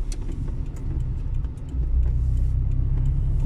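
Car interior rumble while driving on a detour road through Sławków, a steady low engine and road drone that swells louder midway, with no voices.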